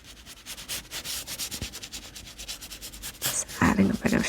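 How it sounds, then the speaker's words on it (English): A dry brush scrubs texture onto watercolour paper while painting a sandy beach, a close, steady rhythmic scratchy rubbing that grows louder and denser toward the end. "you can also blend this one out or just add a bit of texture with dry brush in your sand"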